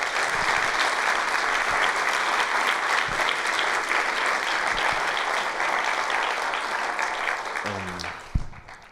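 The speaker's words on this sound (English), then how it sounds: "Please, a round of applause for that one." An audience applauds at a forum talk, a dense, steady clapping that fills the room for several seconds and then fades out, ending with a single thump and a short voice.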